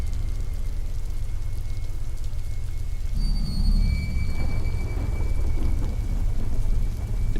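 Heavy rain pours steadily in a storm with hail, with a deep rumble of thunder swelling midway; loud, dense and continuous.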